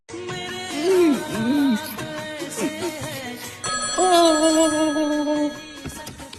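A mobile phone's incoming-call ringtone plays loud and close, a melodic electronic tune with sliding tones and sustained notes that repeats in phrases before cutting off, with no talking.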